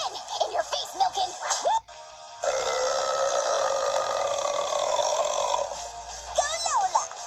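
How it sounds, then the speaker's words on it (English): A long, loud, gravelly burp rolls on for several seconds, framed by excited voices talking and cheering before and after it. "Biggest burp!"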